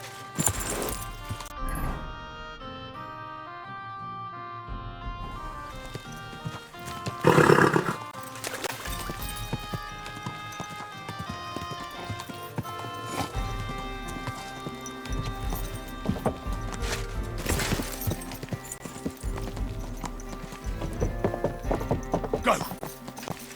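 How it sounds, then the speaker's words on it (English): Horse hooves clip-clop and a horse neighs in Kingdom Come: Deliverance 2, with a loud whinny early on and steady hoofbeats continuing at close range over a game soundtrack and ambient sounds. "Easy, good horse."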